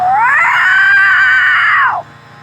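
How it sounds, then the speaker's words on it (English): A loud, sustained, shrill creature scream rises and holds for nearly two seconds, then cuts off abruptly, leaving a quiet, dim background. "That was the scream of whatever that thing was."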